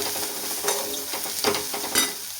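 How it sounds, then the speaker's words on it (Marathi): Curry leaves and semolina sauté in hot oil for upma, a steady close sizzle broken by three distinct scraping stir strokes, with no voices. "आपण थोडा परतून घेऊया"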